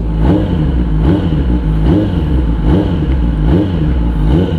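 A Kawasaki ZX-10R sport motorcycle engine revs up and down repeatedly in a steady rhythm, loud and close, with about five rising throttle blips.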